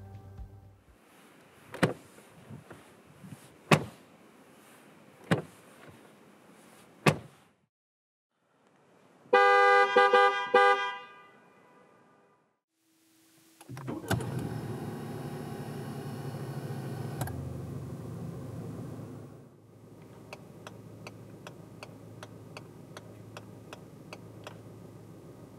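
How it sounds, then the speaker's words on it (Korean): Sounds from a 2020 Ford Mondeo 2.0 diesel: several sharp door thuds close by, a short horn blast, the whirr of a power window, then a rhythmic indicator ticking, each heard alone without speech. "잠시 몬데오가 들려주는 감성 측면의 소리를 들어볼까요?"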